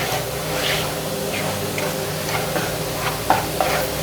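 Wheat flour roasting in ghee for halwa is stirred steadily in a pan, producing a continuous scraping, sizzling texture with a few sharper clicks of the spoon against the vessel.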